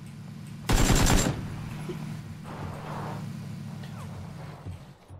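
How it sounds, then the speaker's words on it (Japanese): A rapid burst of automatic gunfire rings out in PUBG, one loud close volley lasting about half a second, followed by quieter distant shots and a low steady hum. "みんながこうするように撃ってる"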